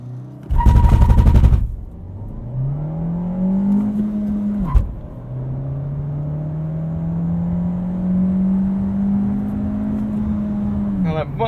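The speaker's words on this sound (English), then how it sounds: "Now that might have been a little bit too much tire spin there to get the best time" A 2020 VW Golf launches hard with traction control off, a loud burst of tire spin followed by the engine revving up through rising pulls and gear changes, close and continuous.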